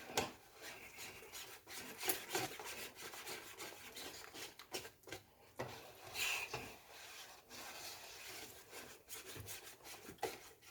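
Dasheen pudding batter being stirred by hand for a Jamaican pudding, a steady scraping, rubbing rhythm of spoon against bowl, close and fairly quiet, with no talking.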